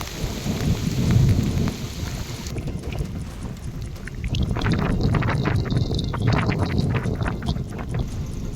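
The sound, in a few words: heavy rain with thunderstorm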